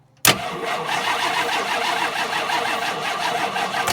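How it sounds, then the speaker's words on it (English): A 1968 Ford XL engine cranks continuously after a sudden start, with a steady whirring churn that holds for several seconds without catching. "Now, why all of a sudden isn't it starting?"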